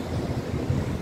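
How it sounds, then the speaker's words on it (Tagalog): Wind gusts steadily across an outdoor street in Athens, Greece, giving a broad, close rumbling rush on the microphone with no voices heard. "Mahangin."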